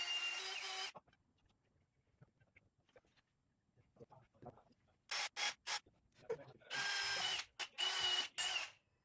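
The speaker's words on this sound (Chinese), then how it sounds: "然后我们先去后面钻孔，钻这4个孔，然后让我可以锁在我的立柱上" A drill bores four holes into metal to mount an arm onto a milling-machine column, heard as short bursts of grinding noise separated by quiet pauses and faint handling sounds.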